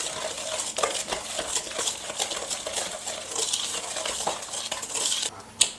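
Egg yolks being stirred into creamed butter and sugar in a mixing bowl, giving a steady, close run of soft scraping and clinking spoon strokes over several seconds, with no talking.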